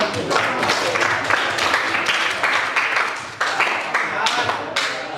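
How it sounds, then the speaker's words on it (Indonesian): Classroom students clapping together during an Islamic studies lesson, a loose burst of claps with a few stronger slaps standing out, close and fairly loud. "Oke, tepuk tangan kita semua."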